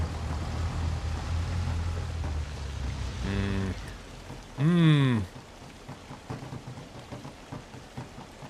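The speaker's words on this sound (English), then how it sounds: "That rain sound is genuinely rubbish." Steady rain falls throughout a video game scene, a constant hiss like drops drumming on a roof, with a couple of brief tonal bursts and low rumbles cutting in over it.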